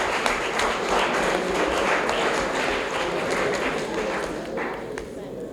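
Sustained applause from an audience at an awards announcement for a human rights education poetry contest in Benin, a dense wash of clapping that gradually thins toward the end.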